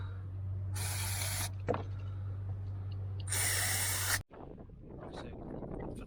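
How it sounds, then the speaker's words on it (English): Two sharp hissing bursts of an aerosol contact cleaner sprayed on spark plug connections, each about a second long, over a low engine hum and some clatter. "Contact cleaner on all the connections down on the spark plugs."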